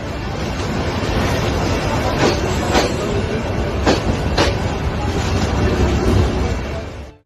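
Train passing just centimetres from a fruit stall beside the railway in Bangladesh: a loud, close, sustained rumble with rhythmic wheel clicks over rail joints, fading out abruptly at the end.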